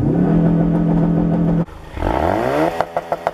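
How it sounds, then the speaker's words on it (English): A Ford Focus RS engine idles steadily, then roars as launch control holds the revs high at about 5,000 rpm, loud and close, with a few popping bursts at the end. "Now, if I floor the accelerator,"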